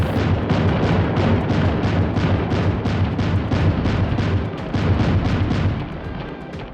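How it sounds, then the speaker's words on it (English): Rapid, relentless weapon fire from enemies in the video game MechWarrior 3050, a dense loud barrage of booming bursts that runs nearly unbroken, with heavy thumping mech footsteps blended in, easing slightly toward the end. "The only sounds that will be accompanying your missions are the thumping footsteps of the Timberwolf, paired with the endless firing sounds of enemies"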